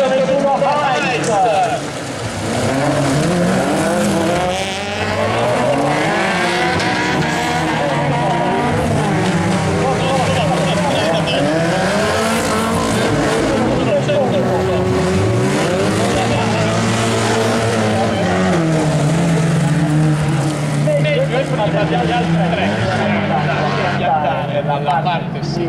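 Autocross race cars brake into the first corner of a Swiss autocross class A event, their engines roaring loud and continuous with shifting revs and tire squeal, while a commentator talks over the noise throughout.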